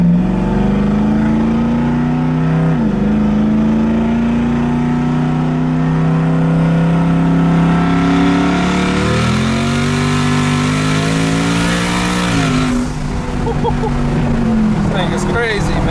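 A 900-horsepower twin-turbo Ford F-150 pickup accelerates hard in sport mode, its loud engine note climbing steadily in pitch with brief dips at gear shifts, continuous for about sixteen seconds beneath occasional talk from people inside.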